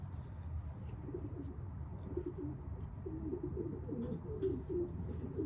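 Soft, repeated pigeon coos from young birds at Camp Capistrano murmur low and steady against a constant background hum, with a few faint chirps higher up.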